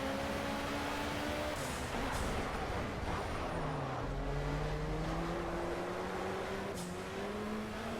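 Race car engines in the Project Cars video game, droning and rising through gear changes as several cars accelerate together, heard moderately loud at a steady distance with no voices.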